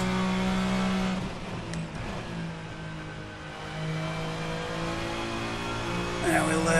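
A touring car engine in Assetto Corsa revs steadily at high pitch through gears on a spirited outlap, loud and close, with a brief gear change and a sharp rise near the end.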